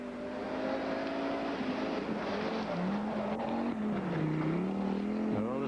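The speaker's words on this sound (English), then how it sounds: "you couldn't possibly hear over the roar of these cars with normal conversation" Open-class rally cars at the 1991 Baie des Chaleurs rally roar past with a continuous loud engine drone that rises and falls as they rev and shift, steady throughout with no pauses.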